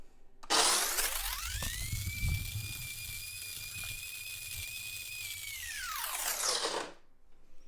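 Electric coffee grinder set to its coarsest setting, grinding beans for cold brew: a loud, steady whining motor that spins up sharply, holds an even pitch for about six seconds, then winds down, with no talk.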